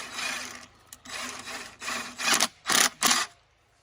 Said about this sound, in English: And we're going to attach the hose clamp.